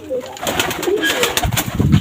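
A male Pakistani pigeon coos at close range, with soft throaty calls over a few seconds and a louder, rougher burst near the end.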